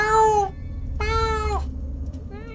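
Cat meowing in a horror video game: two long, loud, drawn-out meows close by, followed by a shorter, softer third meow over a low rumbling game ambience.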